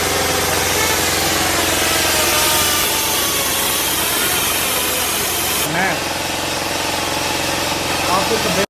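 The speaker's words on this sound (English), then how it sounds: "I'm grinding down all the welds so we can get it painted and undercoated." Loud, continuous power grinding on welded steel reinforcement plates of a BMW E46 M3 rear subframe in a workshop, a harsh abrasive roar throughout with a shift in tone partway and no pauses.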